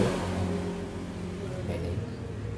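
A Yamaha Mio GT125 scooter engine fitted with a Vario 125 FI piston runs close by with a steady, slightly rising drone, as if being revved gently.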